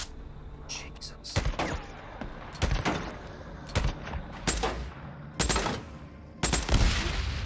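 Gunfire in the zombie-survival game Days Gone: sharp individual shots and short bursts crack out in an irregular sequence of about eight loud reports, separated by quieter gaps with faint ambient noise.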